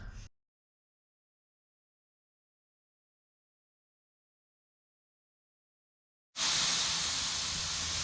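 Compressed air hissing out of a leaking airline fitting on an off-road air compressor, a loud steady broadband rush that starts abruptly after a long silence and keeps going.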